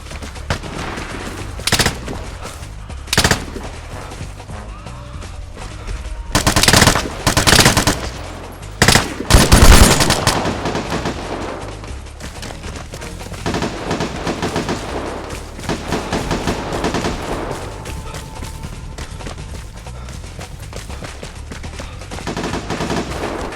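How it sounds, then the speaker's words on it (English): Team gunfight in the online shooter Vigor, with repeated loud bursts of automatic and single gunfire, some close and sharp, others farther off, scattered across a continuous background of game ambience. "It's more like a team is shooting at another team."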